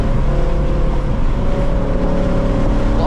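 The loud, close engine of a 2024 Mustang GT with a Whipple supercharger drones steadily with a deep rumbling tone, holding throughout as the car downshifts, with no voices.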